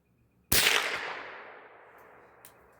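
A single sharp crack from a Winchester Low Wall varmint rifle, fired once and close by, followed by a long ringing decay that fades over two seconds, with a faint later tap.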